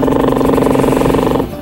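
A voice imitates a helicopter with a steady, rapid pulsing drone, loud and close, continuous for over a second before easing off at the end.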